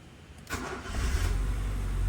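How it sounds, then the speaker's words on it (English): A Honda Civic VTi with a D16Y8 engine, freshly rebuilt, cranks briefly and catches, then settles into a steady, loud idle heard up close with no talking. "now let's hop back in and try to start the car."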